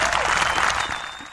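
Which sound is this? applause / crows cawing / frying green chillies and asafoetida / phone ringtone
applause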